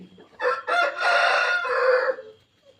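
A kaki breed fighter rooster crows once, close and loud, in a single drawn-out call lasting about two seconds with no other sounds around it.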